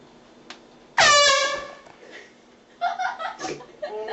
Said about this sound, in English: Let's go on a wild adventure with his air horn.